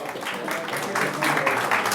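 Applause at a county board meeting, a steady wash of many hands clapping that swells slightly toward the end, with voices mixed in.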